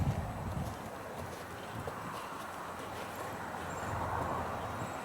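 A horse walks up over ground outdoors, its hooves giving soft, irregular clip-clops at moderate distance amid light wind noise.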